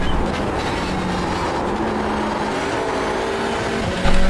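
Race car engine of a Hyundai Elantra in the iRacing sim at Knockhill, holding a steady loud drone after shifting up into second, with a slight rise in level near the end.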